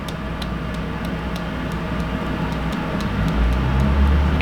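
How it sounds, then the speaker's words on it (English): A vehicle engine rumbles low and steady, swelling slightly toward the end as it pulls off, with faint regular ticking above the hum. "And the truck goes away."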